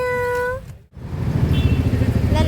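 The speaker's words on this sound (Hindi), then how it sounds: "एक बिल्ली का बच्चा मिल गया गाइस." A kitten meows once, a short, clear, fairly close cry, then traffic and motor noise rumble on underneath.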